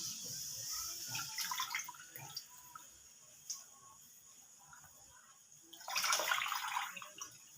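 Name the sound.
straining boiled chowmein noodles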